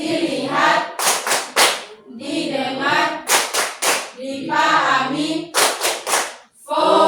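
Children in a classroom clap in short rhythmic bursts of three or four sharp claps during a clap routine, alternating with a chanting group voice and a teacher speaking between the clap patterns.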